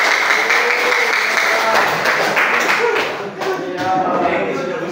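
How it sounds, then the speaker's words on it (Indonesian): A classroom of students applauding a classmate, with brisk mixed clapping that fills the room at close range and stays fairly even throughout. "Tepuk tangan buat Kristiawan."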